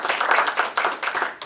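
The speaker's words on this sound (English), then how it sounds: "I think he deserves a round of applause for that." An audience at a community meeting with the West Virginia governor breaks into applause, a brief, close burst of dense clapping that fills the whole moment.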